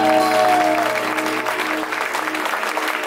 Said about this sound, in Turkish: Lütfen bütün alkışlar Levent Kırca'ya gitsin.